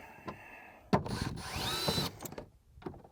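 A power driver backing Phillips head screws out of the door trim of a 2001-2007 ZZE Toyota Corolla, one close, loud whirring burst lasting about a second, framed by a few clicks and handling knocks.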